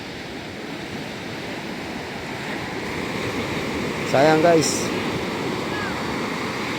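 Waves rolling in one after another at a sea crossing, a constant loud wash of surf with wind buffeting the microphone, and a brief voice speaking near the end.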